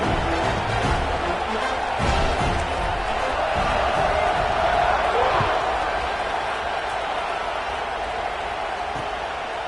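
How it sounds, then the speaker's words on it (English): A big football stadium crowd roars and buzzes with a constant dense rumble of voices, a few distant thumps mixed in, while someone talks over the din. "this crowd is buzzing after that last score"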